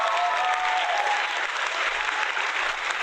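Canned applause triggered from a soundboard button during a livestream, a uniform wash of crowd clapping that holds steady for a few seconds with a faint tonal whine at the start.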